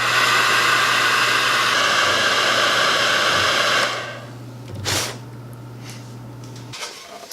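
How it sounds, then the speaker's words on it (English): A heat gun blows steadily on a green rubber boot fitted over a bolt head on a Jeep JKU gear plate, a loud continuous roar for about four seconds before it cuts off, leaving quiet room tone and a faint clunk. "I'm going to try to apply some heat to this green rubber boot just to make sure it contours to the bolt head a little bit better."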